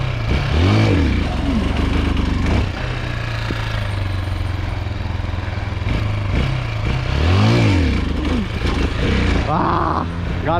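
A street-legal dirt bike engine revs hard in loud, close bursts during wheelie attempts, rising and falling with a bogging drop between pulls and a rider's voice faintly in the mix.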